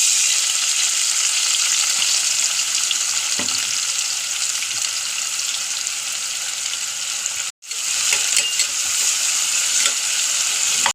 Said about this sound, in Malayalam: ആവശ്യത്തിനുള്ള സവോള അതിൽ തന്നെ വറുക്കണം